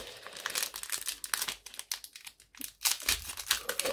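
Foil wrapper of a Pokémon card booster pack being torn open by hand, a close, loud run of crinkling and ripping that keeps going in bursts throughout, with no talking.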